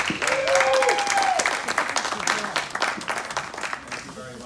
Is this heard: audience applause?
yes